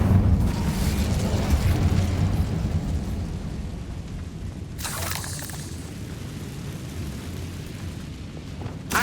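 Incendio fire spell cast in Hogwarts Legacy, a sustained roaring, rumbling blast of flame that holds steadily loud, with a brief hissing flare partway through.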